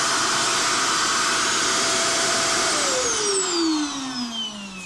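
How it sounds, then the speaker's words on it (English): A homemade bagless vacuum cleaner runs loud and close with a steady roaring airflow hiss and a motor whine that drops in pitch partway through, with no talking. "So here it's vacuuming air from here."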